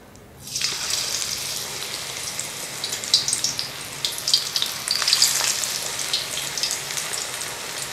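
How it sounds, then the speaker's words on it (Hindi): Pakoras fry in hot oil over a medium flame, giving a bright, steady sizzle that starts suddenly and then crackles on with no talking. "तो और तलने भी हमने थोड़े मीडियम फ्लेम पर, थोड़ा स्लो कर लो"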